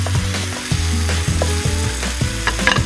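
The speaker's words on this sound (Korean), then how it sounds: "이렇게 앞쪽에다 몰고 마늘과 대파, 고추를 볶아주시는 게 좋아요." Garlic, green onion and chili stir-fry in a pan for a broccoli and dried shrimp dish, sizzling close up while a utensil scrapes and knocks against the pan in irregular strokes.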